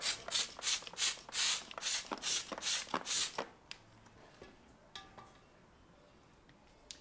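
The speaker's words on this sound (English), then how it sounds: "we'll start with the Shiny Garage Monster wheel cleaner. We're going to put quite a lot on" Repeated bursts of Shiny Garage Monster wheel cleaner sprayed onto a car wheel, about ten quick rhythmic trigger-sprayer hisses close up, then faint drips and quiet handling.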